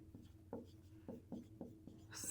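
A pen scratches out a fraction by hand on paper in a series of short, rhythmic strokes, quiet and close with no talk.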